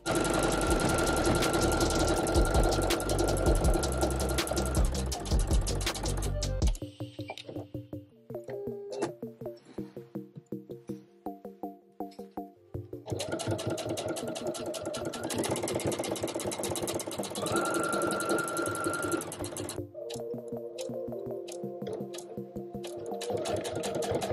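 Sewing machine stitching a pair of upcycled cargo jeans, running steadily and loudly for most of the stretch. It pauses briefly partway through, then resumes over a dense background with tonal layers.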